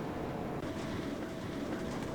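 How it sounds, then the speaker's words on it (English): A train rolls slowly through the docks in the Trainz railway simulator on Xbox, giving a continuous rumbling rail noise with soft rattling throughout. "Come on, train, hurry up."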